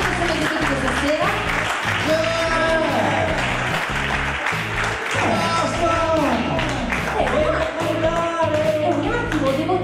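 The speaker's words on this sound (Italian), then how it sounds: "io farei ancora un grandissimo applauso a tutti i concorrenti che sono venuti questa sera" An audience at a café singing contest applauds the competitors, steady crowd clapping layered under music with a strong rhythmic beat and a voice calling out.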